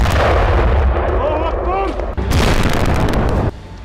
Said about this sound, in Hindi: एक खंडर हो चुके घर से रॉकेट दागा जाता है। तेज धमाका और आग की लपटों में